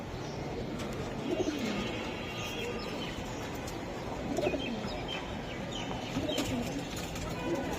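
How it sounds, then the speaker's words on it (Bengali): Pigeons at a pigeon market stall coo in low, soft, repeated calls, with a few higher chirps over steady background noise and some nearby talk. "এই যে আরো এক পেয়ার কবুতর"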